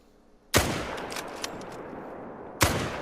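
Two sharp rifle gunshots in the hunting game Askiy Ridge, a loud crack with a long rolling echo fading between them, then a second shot about two seconds later.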